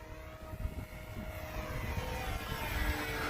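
A Swift RC model plane drones steadily overhead, its engine whine fairly faint and holding level against a broad outdoor wash with no voices.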